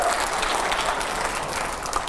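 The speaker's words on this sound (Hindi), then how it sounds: "तालियां जरा जोरदार होनी चाहिए हर सवाल के पहले" Audience applause fills the hall at a political talk event, dense steady clapping from a large crowd throughout, loud and close with no voices over it.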